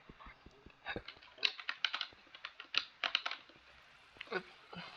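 Computer keyboard typing in a hot room during Minecraft play, a close, loud run of irregular clicking keystrokes with brief pauses and no talking.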